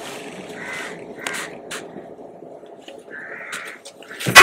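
A voice imitates a squeaky chu-chu sound, producing a few short high-pitched squeaks with pauses between them, close and fairly quiet.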